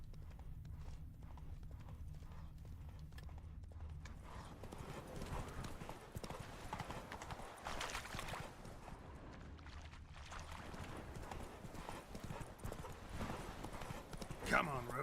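Hooves of Roach, Geralt's horse in The Witcher 3, clip-clop steadily along a mountainside town, joined by an occasional whinny over ambient game sound while someone talks now and then.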